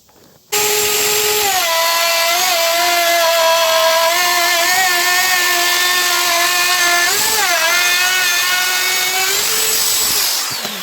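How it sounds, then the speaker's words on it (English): A router cuts a groove into a wooden board for homemade arrows, guided along a straight edge. It starts abruptly as a loud, steady, high-pitched whine, shifts pitch slightly as it bites into the wood, and continues without pause for around ten seconds. "I'm gonna router a groove right here"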